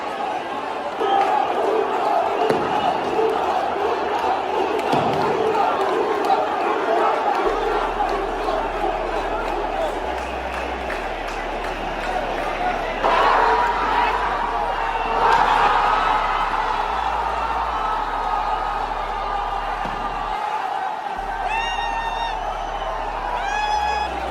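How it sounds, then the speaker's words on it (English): A packed football crowd roars after a Mohun Bagan goal in the Kolkata Derby, a dense sustained wall of cheering, chanting and whoops, loud throughout with someone talking over it. "The crowd is going absolutely nuts"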